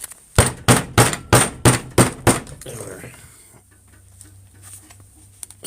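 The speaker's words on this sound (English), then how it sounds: "Hammer the life out of them. That's how you get them out." Seven sharp, evenly spaced hammer blows ring out close and loud on a Milwaukee M18 battery pack as cells are knocked free, followed by quieter scraping and a low steady hum.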